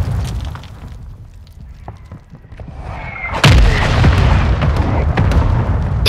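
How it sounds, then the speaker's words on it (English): Mortar strikes in Call of Duty: Modern Warfare II land as booming explosions: scattered distant thuds first, then a heavy close blast that leaves a loud, sustained roar of rubble and rumble. "Hostile mortar strike incoming."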